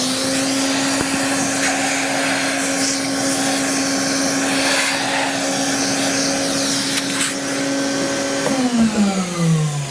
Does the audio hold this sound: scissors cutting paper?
no